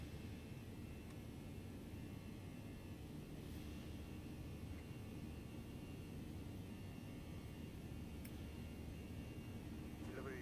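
Airbus A319 engines spooling to takeoff thrust in the X-Plane 11 flight simulator, a steady, loud, broadband jet roar that runs unbroken from start to end with no talk over it.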